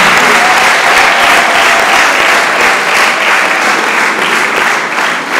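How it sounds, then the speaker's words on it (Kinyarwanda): A church congregation bursts into loud, sustained applause, a dense wash of many hands clapping close by for the whole stretch. "Niyo mpamvu dukwiye gukomera umushumba amashyi menshi."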